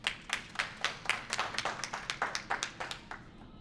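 A small business expo audience claps in a fairly even rhythm at a presenter's request, a dozen or so distinct beats at moderate volume, lightly echoing in the room.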